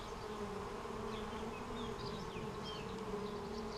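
Steady, dense buzzing of a honeybee swarm inside an opened hive, a continuous drone held throughout at moderate, close level with no talking.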